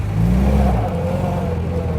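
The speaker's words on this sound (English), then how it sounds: "That was a almost perfect clutch, double declutch into first." A classic MG MGA sports car engine blipped and revved during a double-declutch shift into first gear, a loud close mid-pitched surge that rises then settles to a steady hum.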